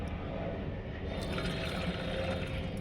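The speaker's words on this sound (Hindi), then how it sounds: "अब इसमें मैं पानी डाल रही हूँ 4 गिलास।" Water pours from a glass into a buttermilk mixture for an organic garden spray, a close, steady splashing rush that fills the whole short moment.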